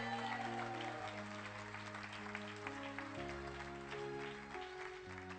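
A church congregation applauding during a sermon, continuous crowd clapping mixed with sustained organ or keyboard chords, moderately faint and steady.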